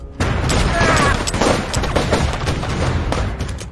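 Rapid gunfire rattles through a film shootout near a factory, a dense, loud burst of overlapping shots that rolls on for several seconds, with a voice briefly under the din.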